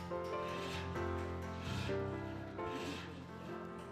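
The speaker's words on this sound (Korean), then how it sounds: "처음 듣는 옛날 톱질 소리에 아이들이 먼저 귀를 쫑긋 세웠습니다." A traditional hand saw rasps through wood in slow back-and-forth strokes, each pass a gritty scraping, quiet and close with a faint hum beneath.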